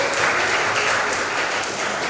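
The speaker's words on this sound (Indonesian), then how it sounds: "Beri tepuk tangan." Steady, dense clapping from a classroom audience during a teacher performance assessment session, sustained and even throughout with no voices over it.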